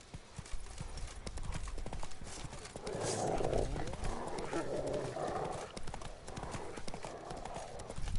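Roach, a horse in The Witcher, trots at a steady clip-clop rhythm, hooves sounding fairly close and moderately loud, with a brief whinny and someone speaking over the hoofbeats.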